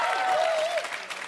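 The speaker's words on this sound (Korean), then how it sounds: "저 박수 쳐주세요" An audience at a live hip-hop stage show clapping for the group's DJ, brief dense applause with a sustained tone or voice riding over it.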